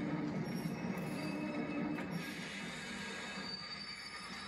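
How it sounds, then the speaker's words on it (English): A train arriving in the video game Kingdom Hearts 2, with a sustained metallic wheel squeal over a rolling rail rumble, steady and close, gradually easing off in loudness, with no voices. "The train will be arriving shortly."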